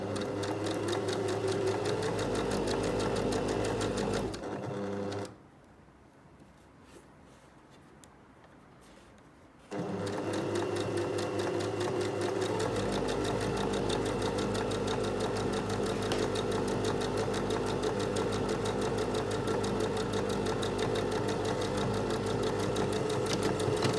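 A sewing machine reverse stitches a flat fell seam using an edge stitching guide, running steadily and loudly, stopping briefly for about four seconds, then resuming its rapid even hum.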